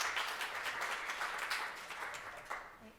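Audience applause welcoming a student subtitle-club representative to the stage at a foundation's annual report event, a steady, fairly quiet wash of many hands clapping that tapers off toward the end, with no talking over it.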